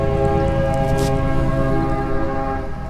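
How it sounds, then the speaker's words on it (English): A loud passing train rumbles steadily nearby, with sustained tonal horn-like hums over the continuous rolling noise. "My gosh, these trains are loud."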